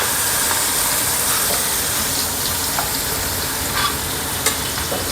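Beetroot, potato and curry leaves being added to veg pulao in a hot pan, producing a loud, continuous sizzle and frying hiss with occasional soft stirring scrapes.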